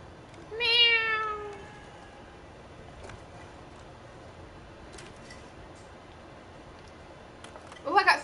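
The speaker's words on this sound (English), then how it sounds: "I can go pet the kitty." A cat in the video game The Evil Within 2 gives one clear, close meow, followed by quiet game ambience with a few faint clicks and a short burst of sound at the end.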